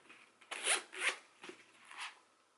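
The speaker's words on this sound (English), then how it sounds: "It has a zipper." Zipper on a rose gold journal case being pulled open or closed in several quick strokes, close and crisp, with short zips and pauses between them and no talking.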